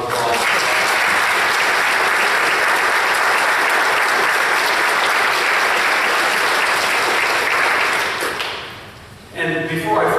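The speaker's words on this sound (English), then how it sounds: "So let's give them a round of applause." A church congregation applauds in a sustained, loud burst of many hands clapping that holds evenly for several seconds, then tapers off and drops away near the end as a voice comes in.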